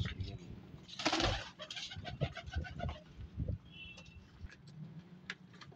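Desi Jaunsara pigeons coo and flutter in a loft among other birds, with soft repeated calls and wing and body rustles close by, under a busy, fairly loud background.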